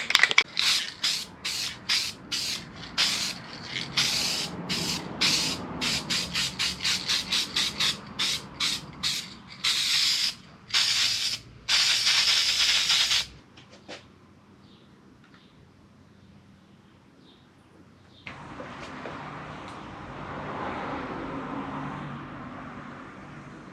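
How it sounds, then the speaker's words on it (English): Repeated sharp hissing bursts of copper aerosol spray onto a head gasket for a Nissan RB20DET engine, close and rapid, followed by a quieter stretch and then a low background rumble. "spray this on the head gasket and then we can chuck this head on."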